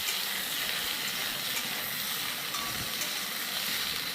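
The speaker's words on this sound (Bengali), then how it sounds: "আলু আর কচুটা ভাজা হয়েই গেছে" Potatoes and taro fry in hot oil in a home kitchen, giving a dense, steady sizzle that holds close and even throughout with no voices.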